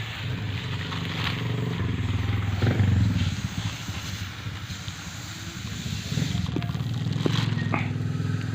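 A refrigerator or freezer compressor motor repurposed as an air pump inflates a ball, giving a continuous close mechanical hum and whooshing air that runs steadily with slight swells.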